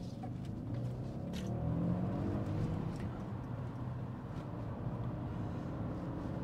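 A Volkswagen Phaeton pulls hard out of a junction in sport mode, its engine a steady, low, muffled drone heard from inside the cabin.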